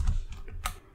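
Code typed on a computer keyboard, three or four quick close key taps in a brief burst, with no voices.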